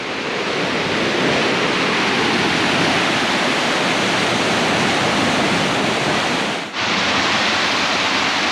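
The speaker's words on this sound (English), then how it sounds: "we got the spillway here, rocking and rolling" Loud, continuous roar of water rushing over a spillway, dense and steady, close by, with a brief dip near the end before it resumes.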